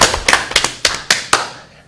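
Scattered claps ring out from a small audience in a hall, about eight sharp separate hits over two seconds that fade away at the end.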